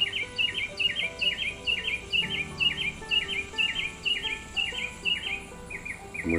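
Birds chirping repeatedly in a steady rhythm in the Ouachita Mountains, bright high tweets recurring every half second or so, with faint insect buzz and background hum outdoors.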